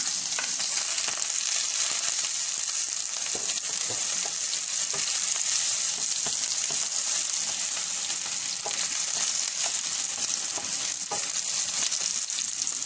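Sliced onion with turmeric, chili and cumin frying in a pan makes a loud, continuous sizzle, with occasional stirring clicks throughout and no voices.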